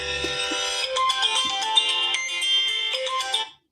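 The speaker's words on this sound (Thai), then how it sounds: "พอดีโทรศัพท์เข้ามาตอนนี้พอดี" A phone ringtone sounds for an incoming call, a bright looping electronic melody that plays continuously and fairly loud with no talking over it, ending abruptly.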